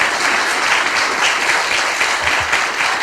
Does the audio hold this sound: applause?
yes